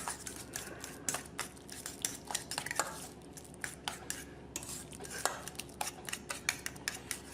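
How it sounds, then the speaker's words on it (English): Avocado deviled egg filling with olive oil being mixed in a bowl, heard as a close run of quick clinking and scraping utensil taps in an irregular rhythm. "Now I'm going to go ahead and just mix all those ingredients up here"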